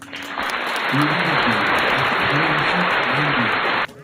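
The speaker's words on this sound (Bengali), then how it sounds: "আপনাদের নিজেদের জন্য একটা জোরে করতালি হয়ে যায়" An audience claps loudly at an annual dance school cultural show in Patharpratima, a dense wash of applause that starts abruptly, holds steady for about three seconds and cuts off, with a voice faintly audible underneath.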